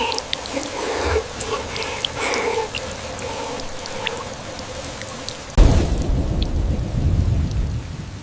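Steady cold rain falls outdoors in a forest setting, a dense hiss of drops with scattered louder patters, turning heavier and rumbling toward the end like distant thunder.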